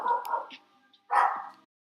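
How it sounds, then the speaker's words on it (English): A dog gives two close, loud barks about a second apart, each a short burst with a tonal, yelping edge. "let me get my dog"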